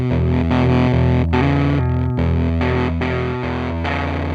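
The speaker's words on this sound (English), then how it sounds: "This cassette recorder gives me distortion because the signal from my guitar is exceeding the max amplitude that the cassette recorder is designed to receive through its mic input" An electric guitar is fed into a cheap cassette recorder's mic input and overloads it, giving a buzzy, heavily clipped tone as sustained chords change several times, loud and alone.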